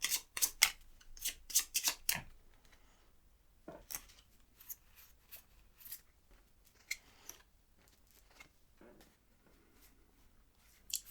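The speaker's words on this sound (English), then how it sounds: "he already has to shuffle his card pile in" Quiet, close crisp riffling and snapping of cards being shuffled in short bursts, with pauses between them and no talking.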